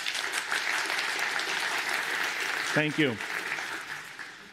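Applause from a conference keynote audience voting for concepts, a broad dense wash of many hands clapping that fills the clip and fades toward the end, with a short spoken thanks near the middle.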